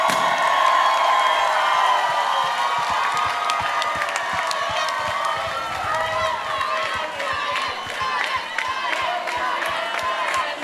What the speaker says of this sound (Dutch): Tegelen, geef ze een goed applaus.